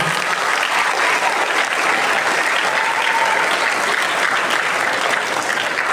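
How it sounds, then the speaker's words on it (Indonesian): Loud, sustained applause from an audience at an Islamic study gathering held by Yayasan Islam Al-Fahad, continuous dense clapping that fills the whole stretch without pause or voices. "Tepuk tangan untuk kita semua."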